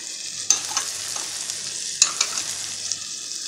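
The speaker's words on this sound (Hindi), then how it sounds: "टमाटर थोड़े से नरम होते हैं जैसे, तो बस मिर्ची के साथ डाल देती हूँ।" Tomatoes and chillies tossed into a hot pan while making fried potatoes, hissing in a bright steady sizzle close by, with a few sharp spoon clinks and stirring scrapes at irregular moments.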